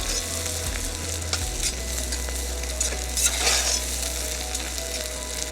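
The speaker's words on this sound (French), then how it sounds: "On va rajouter notre concentré de tomate maintenant que les légumes sont bien rôtis" Tomato paste stirred into roasted vegetables in a hot pan, a steady close sizzle of frying beneath a few soft scraping strokes of the spoon, with a low hum underneath and no talking.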